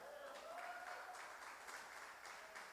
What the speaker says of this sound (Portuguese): Aplauda o Senhor pelo Douglas.